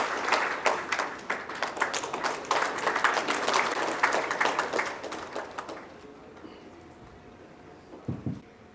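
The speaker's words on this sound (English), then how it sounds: "I request all to please kindly rise and give him applause" An audience at a chartered accountants' gathering in India claps steadily for about six seconds as a dense wash of many hands. The applause then fades, leaving a faint room tone and a couple of soft knocks.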